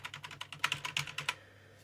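Computer keyboard keys pressed in a quick run of about a dozen clicks while playing a block-mining game, crisp and close, then stopping; no talking.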